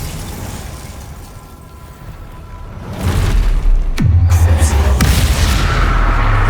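Expelliarmus disarming spell cast in Hogwarts Legacy, a sudden booming magical impact that cuts in over quieter game ambience, followed by a sustained low rumble and a second sharp crack.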